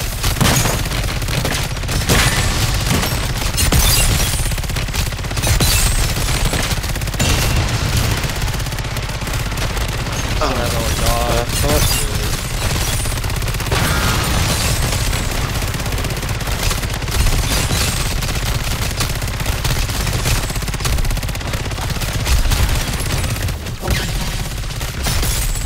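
Sustained gunfire from a weapon in Call of Duty: Modern Warfare III Zombies mode, loud and continuous with dense rapid bursts across the whole stretch and no speech.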